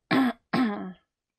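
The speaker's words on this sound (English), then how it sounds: "Sorry, got something in my throat." A man clears his throat twice in close succession, loud and close to the microphone, followed by silence.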